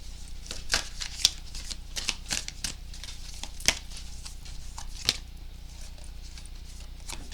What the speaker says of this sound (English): after I get done dropping all the cards